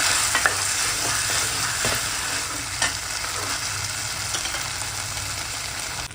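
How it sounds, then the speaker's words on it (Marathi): Rice being sautéed in ghee and stirred in the pan makes a continuous close sizzle with repeated scraping strokes of the spoon. No one speaks over it. "व्यवस्थित परतून घेतले आहे तुपामध्ये मी तांदूळ"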